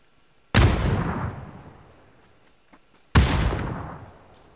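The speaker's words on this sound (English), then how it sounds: "Throwing another grenade." Two heavy blasts about three seconds apart, each a sharp loud onset decaying into a long rumbling tail, from grenade explosions in the battle-royale game PUBG on PS4, with no talk over them.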